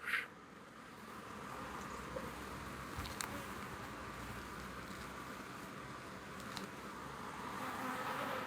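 Annoyed honey bees swarming around an opened beehive during an inspection, a dense steady buzz close to the microphone with a few louder passes of single bees.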